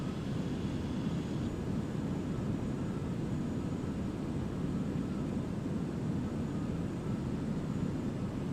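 Light aircraft engine in Microsoft Flight Simulator on short final to a short bush strip in Papua New Guinea highlands, throttle reduced and flaps set; a steady, continuous broadband drone holds at even level throughout, with no voices.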